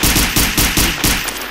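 Video game guns fire at zombies in a fast, evenly spaced series of about seven heavy, close shots that trail off at the end.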